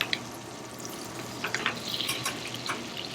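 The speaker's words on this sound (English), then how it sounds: "That butter starting to caramelize that steak a little bit, huh?" Steak sears in caramelizing butter over moderate heat in a pan, a close, steady sizzle with scattered crackling pops.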